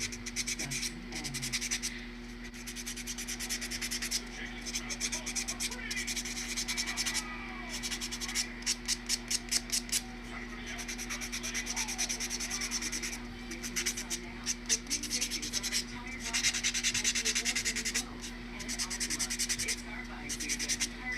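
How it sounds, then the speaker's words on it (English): A buffing block rubbed briskly across fingernails during a dip powder manicure, steady close scratchy strokes with bursts of faster rhythmic passes, alone without talk. "I will just go in and I will hit every one of these nails really, really good"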